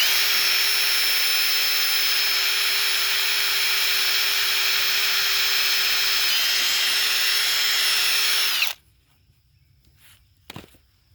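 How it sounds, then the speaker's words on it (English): A power drill whines steadily at close range for several seconds, boring a hole in a rigid PVC gate, then cuts off abruptly, leaving near silence with a couple of faint clicks. "we're going to drill our next hole"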